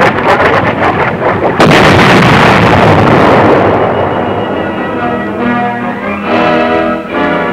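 A La Crosse guided missile strikes a bunker target in a loud, sudden blast that cuts in abruptly, then decays into a long, rolling rumble with scattered crackling debris.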